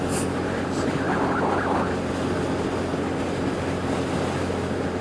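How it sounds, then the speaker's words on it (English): Heavy wind blast roaring over a motorbike rider at speed, a constant loud rushing buffet with engine drone beneath and no talk. "Oh, this fucking wind blast"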